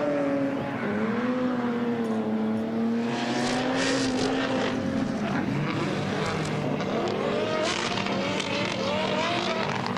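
A BMW drift car at a drift show at the Nürburgring: a loud engine that revs hard, its pitch climbing and wavering as it slides past, with tire roar rising around it and a commentator's voice faint underneath.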